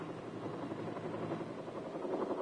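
A military helicopter drones steadily overhead, a muffled continuous rotor and engine rumble at moderate level with no break.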